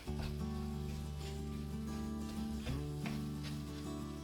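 Onions with balsamic vinegar and sugar being stirred in a pan, a soft continuous sizzle with faint scraping under a steady low hum, quiet and close.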